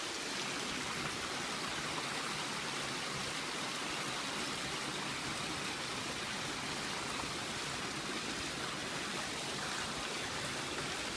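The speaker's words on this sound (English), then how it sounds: "Also in the park is a babbling brook." A babbling brook in a nature park flows steadily, a continuous broadband rush and gurgle of water that stays close and even throughout, with no voices.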